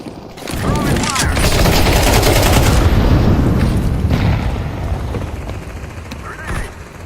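Grenade and molotov blasts in Counter-Strike 2 during a Premier match, a loud sustained roar of fire and explosions with crackling bursts filling most of the span, fading toward the end.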